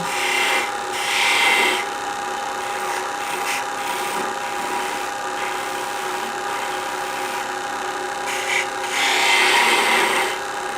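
A skew chisel shears wood on a spinning lathe, giving a continuous close rasping hiss with several louder scraping swells as the cut bites deeper, over the steady hum of the lathe.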